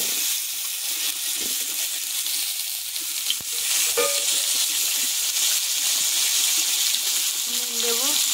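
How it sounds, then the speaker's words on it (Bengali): Potato slices frying in hot oil for a Bengali chela fish curry with brinjal and potato, giving a steady close sizzle throughout with a few light utensil clinks. "প্রথম আলুটা ভেজে নেব।"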